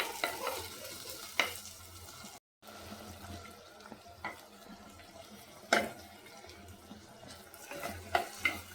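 Turkey berries frying with onions in a pan for a spicy kuzhambu, giving a steady low sizzle broken by occasional scraping stirs and clinks, with a brief silent gap partway through.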